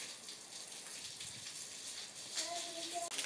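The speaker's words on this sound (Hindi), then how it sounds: "अभी भी बारिश स्टार्ट हुई है।" Steady rain pours outdoors on a farm, soaking a tractor and a parked black car, a dense continuous hiss of drops with a brief tonal sound near the end.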